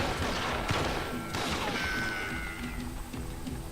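Gunfire in the Western shooter Call of Juarez: Gunslinger: a few sharp, loud shots crack over a constant bed of game noise and a faint whistling tone.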